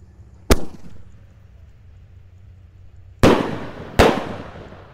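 New Year 2025 fireworks and firecrackers, including Roman candles: three sharp, loud bangs, one early and two close together later, each with a short ringing decay over quiet background.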